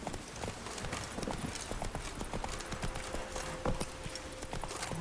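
Roach the horse from The Witcher 3 gallops with quick, rhythmic hoofbeats that clop steadily and close for the whole stretch, over a busy game soundscape.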